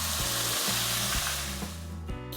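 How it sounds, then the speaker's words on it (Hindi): Ginger garlic paste sizzles and fries in hot oil while cooking fish curry, a steady close, loud crackling hiss with a few stirring scrapes throughout. "इसमें करकरापन आ गए हैं तो अदरक लहसुन पेस्ट हम इसमें ऐड कर देंगे।"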